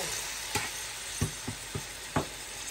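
Meat fries in a pan with a steady, close sizzle, broken by a few sharp scrapes and knocks as it is stirred.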